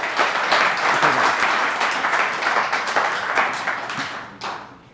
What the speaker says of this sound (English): Give him a big round of applause, everyone.